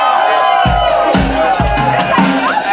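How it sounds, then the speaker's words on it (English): A crowd at a student drum showcase cheers and screams loudly in overlapping bursts, with whoops and excited voices over pounding low thumps. "I know how many people they brought based on how loud the crowd screams."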